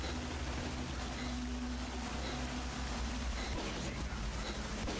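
Steady rain from the video game S.T.A.L.K.E.R. Call of Pripyat hisses continuously with a dense patter and a low rumbling bed, even and unbroken throughout.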